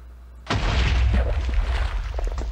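A block of TNT in Minecraft, lit with flint and steel, goes off in one sudden loud blast that rumbles on with a dense, roaring decay, alone with no talk.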